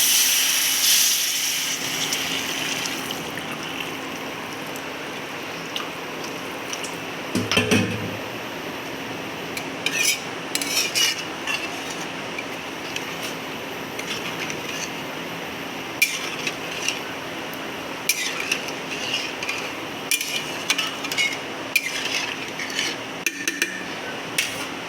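Potatoes are fried with spices in a pan and stirred. After a brief loud burst at the start, a steady background hiss carries on under repeated sharp clinks and scrapes of a utensil against metal, spaced irregularly.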